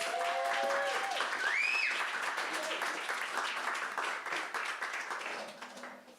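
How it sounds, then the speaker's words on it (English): Steady audience applause at a storytelling event fills the clip, dense clapping from a crowd that gradually thins toward the end, with a few whoops or whistles rising briefly early on. "Round of applause for Steph, please."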